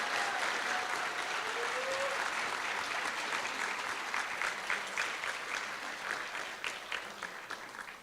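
A school audience at a high school honor roll ceremony applauds students, steady crowd clapping that holds for several seconds and thins toward the end into more separate claps.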